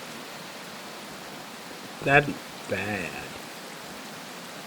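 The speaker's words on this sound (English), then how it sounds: "Being out in the rain in 28-degree Fahrenheit." Steady rain hiss in the game Prologue: Go Wayback! set in freezing weather, constant and even throughout, with a brief spoken remark partway through.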